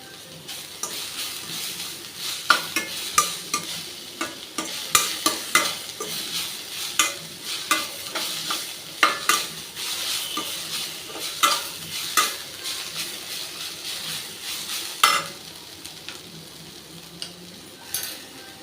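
Vegetables, including cucumber, being sautéed and stirred in a pan for cucumber rice, giving a steady soft sizzle broken by repeated scraping clinks of the spoon against the pan, with no talk.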